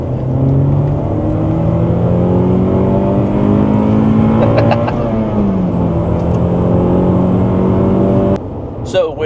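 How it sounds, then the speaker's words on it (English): A 2006 Acura TSX 6MT cruising at about 70 mph with heavy tire vibration: a loud, steady road and engine drone with rising and falling tones, and a brief knock near the end. "we're at about 70 miles an hour right now, and man, I do feel that's a pretty heavy vibration"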